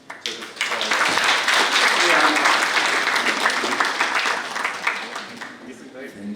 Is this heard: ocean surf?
no